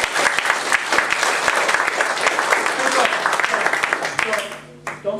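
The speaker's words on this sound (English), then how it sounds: "With that round of applause" Audience at a magic show in an arts festival breaks into dense, sustained applause lasting about five seconds, loud and close, before fading with a brief voice near the end.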